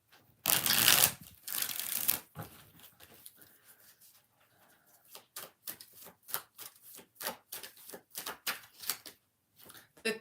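Tarot cards are shuffled by hand in a few bursts: two loud riffles up front, then a quick series of soft, rhythmic card taps and flicks, close and alone.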